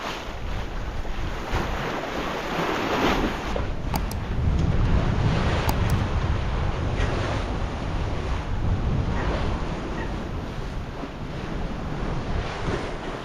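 Strong wind buffets a microphone on a sailboat deck off Alaska's Aleutian Islands while ocean waves wash and surge around the hull, a loud, unbroken roar rising and falling without voices.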